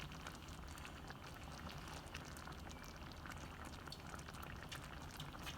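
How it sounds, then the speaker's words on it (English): Fried corn simmers steadily in a pan, a continuous soft bubbling and crackling that stays even and close throughout, with no talking. "Just let it simmer"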